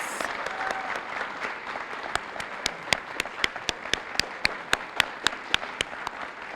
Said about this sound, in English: Join me in another round of applause for our amazing induction class this year